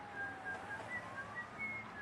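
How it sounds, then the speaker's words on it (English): Whistled melody near the start of a hip-hop album track, several sustained clear notes drifting over a soft, steady musical backdrop throughout. "The whistling."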